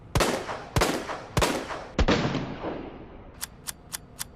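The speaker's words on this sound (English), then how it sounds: "Nice stainless steel revolver." A stainless steel revolver fires in Resident Evil 2 Remake with four loud, evenly spaced shots, each followed by a ringing tail, then a quicker run of fainter metallic clicks as the cylinder is handled. No voices.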